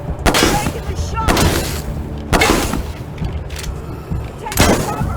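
Loud gunshots from the Wasteland 3 video game, four sharp blasts spaced about a second apart, each one ringing out over a rumbling battle backdrop.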